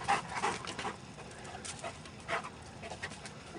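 A dog panting and whimpering close by after being sent to fetch a deer antler bone, with quick breathy bursts and a few thin high whines scattered across a few seconds.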